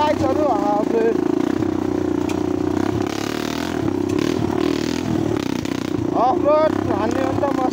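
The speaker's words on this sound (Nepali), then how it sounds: "अफरोड हान्ने हो नि त मस्त अब बाइक पट्काउँदै आफूले" A motorcycle rides off-road through jungle tracks and fields near Syang village in Mustang, its engine a steady loud drone with rattling and scraping over rough ground, while voices talk over it throughout.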